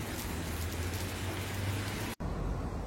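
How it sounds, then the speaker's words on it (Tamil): Steady rain falls in Malaysia's Cameron Highlands as a dense, continuous hiss of drops with a low rumble beneath. It is heard alone at moderate level and cuts off abruptly near the end, returning more softly. "மழை பெய்யுது"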